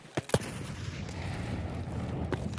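A grenade blast booms in Escape from Tarkov, preceded by a couple of sharp cracks and followed by a rumbling, diffuse wash of noise that fades slowly.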